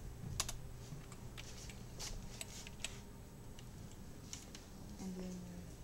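Keys clatter on a computer keyboard as someone types out a calculus function: scattered, quiet clicks in short irregular bursts over a faint room hush.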